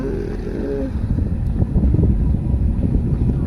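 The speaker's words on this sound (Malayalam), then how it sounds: "നല്ല കാറ്റ്" Strong outdoor wind buffets the microphone in a continuous low, rumbling roar that swells slightly toward the end, loud and close, with no talking.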